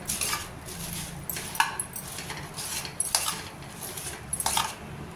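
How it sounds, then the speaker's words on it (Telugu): Fried puffed rice being stirred into hot sugar syrup in a pan for murmura laddu, giving a steady dry rustling scrape with intermittent metallic clinks of the spoon, moderately close. "ఇప్పుడు మనం వేయించి పెట్టుకున్న మరమరాలను ఇందులో యాడ్ చేసుకోవాలి."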